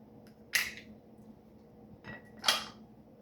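Two quiet, sharp metallic clicks with a softer tap between them, like a detachable handle snapping onto a frying pan.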